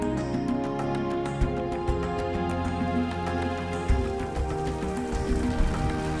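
Rain falls steadily during a storm, a dense, continuous patter on surfaces with occasional louder drops, with no voices.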